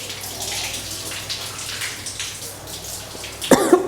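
A shower runs in a filthy bathroom during a toilet clean, with water hissing and spattering steadily at close range and a louder splash burst near the end.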